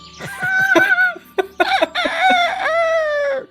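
A rooster crows loudly and close by, with a long drawn-out cock-a-doodle-doo call that breaks into a few short clucks partway through.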